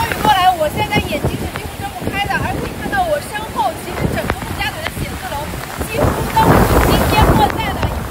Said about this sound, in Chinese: 可以看到，一阵风雨过来